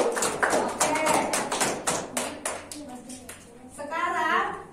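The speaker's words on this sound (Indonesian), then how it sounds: "kita beri tepuk tangan untuk diri kita sendiri" A classroom of students claps for themselves, a dense burst of hand clapping near and loud that tapers off, with a voice speaking over the end.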